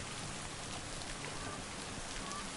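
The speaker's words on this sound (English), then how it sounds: "Of course, it's gotta rain, right?" Steady rainfall in the video game Lake, an even hiss of drops pattering on surfaces with no breaks or other sounds.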